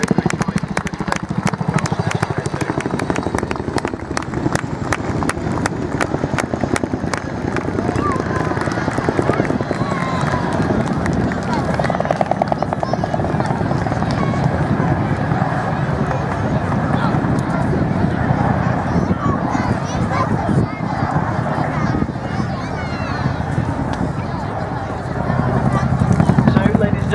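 RAF Chinook helicopter at the Wales National Airshow 2016, its rapid rotor chop pulsing steadily throughout the flying display, sustained and fairly loud, with a commentator speaking over it.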